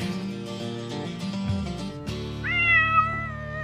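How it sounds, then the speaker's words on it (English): A cat meows loudly and insistently in a garage, with several drawn-out, rising and falling cries over steady background hum. "World's loudest cat."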